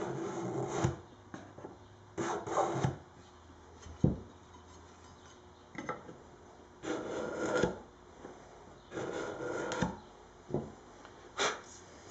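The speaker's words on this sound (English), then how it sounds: "just shave the tenon down a tiny bit with a scraper blade" A scraper blade shaves down a wooden Les Paul guitar neck tenon in repeated rasping strokes, close and moderately loud, with short pauses between each pass and no talking.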